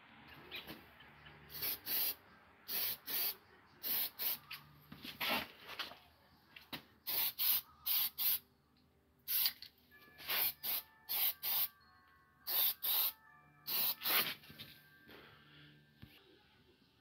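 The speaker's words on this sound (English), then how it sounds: "For the last couple ones, we'll spray a little heavier" Short bursts of spray paint hiss repeat in an uneven rhythm, close by and fairly quiet, with brief pauses between each pass of the can over a car body.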